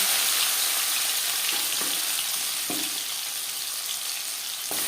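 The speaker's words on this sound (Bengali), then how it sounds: "3 চামচ সরষের তেল গরম করে নেওয়ার পর দিয়ে দেব ম্যারিনেট করে রাখা চিকেন।" Marinated chicken fries in hot mustard oil with a continuous close sizzle and hiss, plus a few soft stirring clicks.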